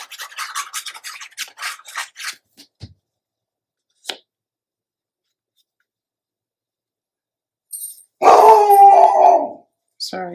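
A pet dog named Nolly, on high alert at dogs being walked past, lets out a few short yips and barks, then after a quiet gap breaks into a loud, wavering howl close by.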